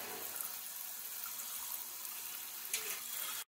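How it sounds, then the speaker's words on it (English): Water runs steadily from a tap into a container, a continuous close hiss that shifts slightly in pitch before cutting off abruptly. "So I will fill this with water."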